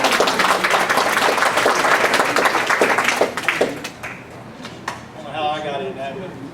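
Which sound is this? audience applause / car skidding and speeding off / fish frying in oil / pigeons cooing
audience applause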